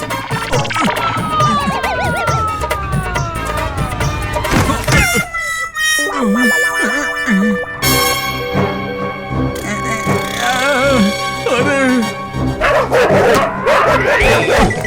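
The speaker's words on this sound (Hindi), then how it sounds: "अरे ये कुत्ते कहाँ से पीछे पड़ गए?" Several dogs barking and yipping in an animated comedy scene, loud repeated barks among music and sirens, with voices talking over them.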